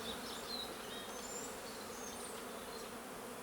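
Dense, steady buzzing of many honeybees, continuous and fairly close, with no voices.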